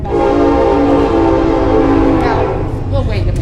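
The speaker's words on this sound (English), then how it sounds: "you also get blessed by the trains that come rolling by all the time" A train rolling by close and loud, a sustained rumbling roar with horn-like tonal blasts that fade toward the end, with people talking faintly underneath.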